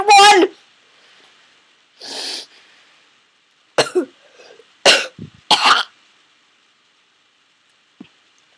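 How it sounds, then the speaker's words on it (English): Several harsh coughs and throat clearings come in separate bursts with silent gaps between them, loud and close to the microphone. "You wanna know why I'm coughing?"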